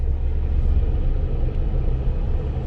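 Low, steady road rumble from inside a car driving in Honduras, a continuous engine and tire drone at even loudness with no voices.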